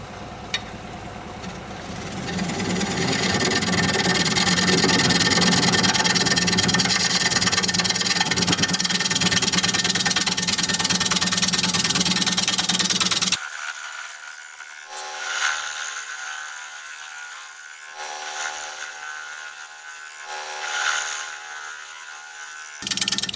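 A wood lathe turns a bowl while its bottom is flattened, a loud steady whir and tool scrape for about thirteen seconds that then stops abruptly, followed by quieter intermittent scraping bursts.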